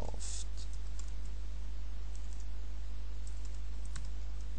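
A few scattered, light clicks of typing on a computer keyboard while a Minecraft server is set up on Ubuntu, sounding faint over a steady low electrical hum.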